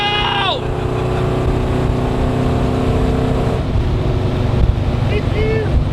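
A Chevy Blazer with a swapped LS3 V8, three-speed transmission and Flowmaster exhaust accelerates, its loud, steady engine roar sustained throughout while voices talk over it.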